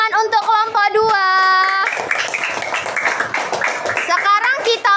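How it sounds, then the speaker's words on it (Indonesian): Schoolchildren in a classroom clap for a group during a Quran recitation lesson, a burst of scattered clapping mixed with children's excited voices and sung or shouted words throughout. "boleh tepuk tangan untuk kelompok 2."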